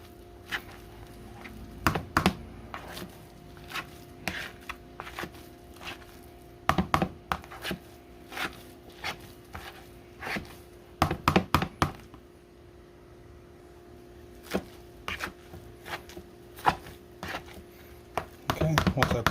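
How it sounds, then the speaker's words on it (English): Boiled potatoes and cooked garlic being mashed in a pot, heard as irregular thumps and knocks of the masher, sometimes in quick clusters, against a low steady hum. "Now the garlic that cooked with it is mashing up perfectly with the rest of the potatoes."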